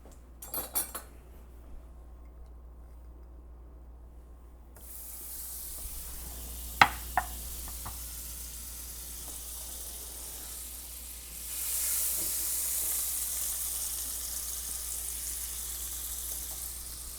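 Oil and butter heat in a pan with a low hiss, broken by a few sharp metal clinks of utensils. Toward the end a louder, bright sizzle swells up and holds, close by, with no talk.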